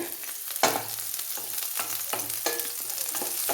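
Onions sizzle and crackle in hot oil after mustard seeds are popped, for an ivy gourd stir-fry, with a few sharp stirring scrapes breaking through the steady frying hiss.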